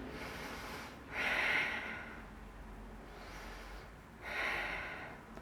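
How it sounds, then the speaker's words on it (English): Deep breaths taken during a yoga session while holding a camel pose, heard as slow, close airy inhales and exhales in two long cycles, each swelling then fading, with no talking. "Breathing with that."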